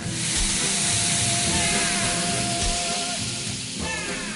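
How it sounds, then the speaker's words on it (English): Veal wrapped in Parma ham fries in butter with a close, steady sizzle and hiss that briefly dips near the end, then resumes. "wraps it in Parma ham and fries it in butter"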